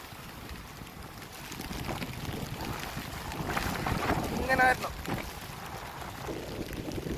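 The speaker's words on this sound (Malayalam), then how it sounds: "അങ്ങനെ ആ ബോട്ട് അകത്തായിട്ടുണ്ട്" A boat moves across open water near a river mouth during the monsoon, with wind buffeting the microphone and a steady engine-and-wash rumble; a person speaks briefly partway through.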